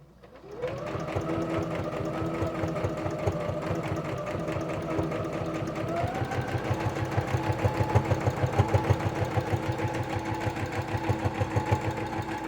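A sewing machine stitches lined kitchen curtains in one steady, rapid, close run of motor hum and needle thumping that lasts about twelve seconds.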